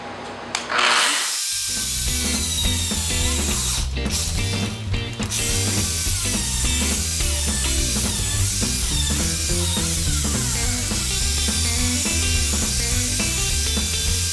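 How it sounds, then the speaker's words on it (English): A Mafell LS1030E chain mortiser cuts a mortise in timber for frame joinery, a continuous loud rattling, ratcheting mechanical drone with chain clatter running steadily after a brief start-up. "This is a Mafell chain mortiser, LS1030E."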